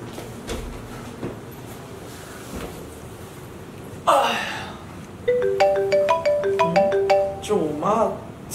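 A phone ringtone for an incoming call plays as a repeating melodic chime pattern, clear and fairly close, after a few soft indoor knocks and a brief gasp-like sound.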